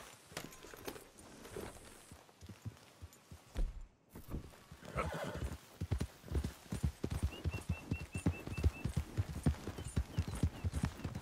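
A horse's hooves clip-clop in a quick, steady gallop in Red Dead Redemption, near and fairly loud, with a brief snort or whinny and no talk.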